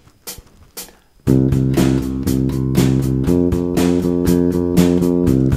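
A bass guitar plays a groove locked with a bass drum, then fills by jumping up the octave; a few quiet taps open before steady, loud repeating bass notes and drum hits take over.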